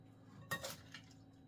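Spoon clinks and scrapes against a bowl while cabbage salad is stirred, one sharp knock followed by softer rattles, close and quiet.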